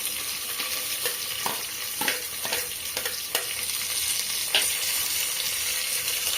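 Onion and green chillies fry in a pan with a steady, close sizzle and occasional scraping taps of a spatula as they are stirred.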